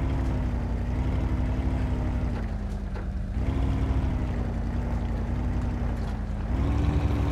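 A Ford Raptor truck engine revs steadily while churning through mud in a video game, a loud, droning motor whose pitch rises and falls in a few slow surges across the whole stretch.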